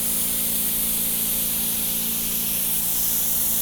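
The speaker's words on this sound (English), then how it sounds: "So I'm ready to spray chairs down." A continuous, loud disinfectant spray hisses steadily from a Clorox 360 sprayer machine, with a low motor hum underneath and no talking.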